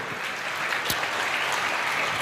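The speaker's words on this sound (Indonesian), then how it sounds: "Kasih tepuk tangan dulu yang dahsyat di atas kepalamu." A church congregation applauds, a dense, steady burst of clapping close by that carries on without a break and with no voices over it.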